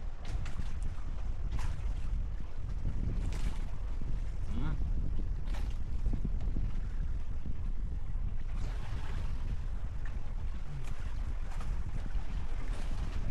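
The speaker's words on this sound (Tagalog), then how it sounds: "Grabe ang lakas na ng hangin dito." Strong wind from a low-pressure system roars continuously across the microphone at sea, with water sloshing against a fishing boat and faint voices in the background.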